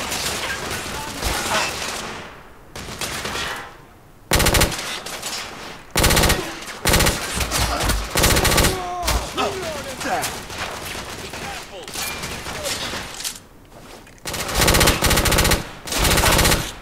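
Gunfire and machine guns in The Order: 1886 video game, rapid bursts of automatic fire and sharp shots in dense volleys, loud and close, broken by brief lulls, with faint voices between.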